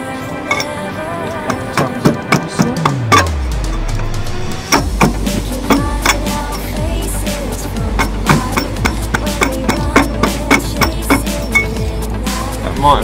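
Metal hammer blows on the corner of a stuck oil filter on a Toyota MR2 Turbo SW20, a steady series of sharp clanking strikes, close and loud, after a brief falling mechanical whir.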